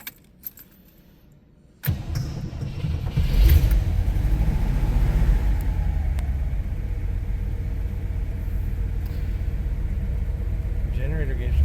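Keys jingle in the ignition of a 1958 Cadillac Eldorado Brougham project car before its engine turns over at about two seconds, then settles into a steady, close rumbling idle that continues to the end.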